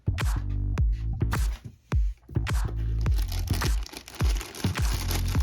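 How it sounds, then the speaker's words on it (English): A plastic bag crinkles and crunches while a 1:18 Otto Models 2008 Subaru WRC model car is unboxed, with close, loud irregular rustles and sharp crackles throughout. "And it comes in this plastic bag"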